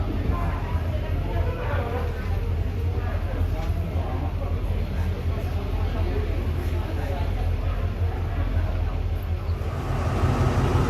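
A diesel locomotive on the night train from Bangkok to Vientiane pulls its carriages forward along a platform at the Thai border, giving a loud, steady engine rumble and rolling drone with no break.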